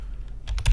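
A brief burst of keystrokes on a computer keyboard, a few quick close taps rising at the end.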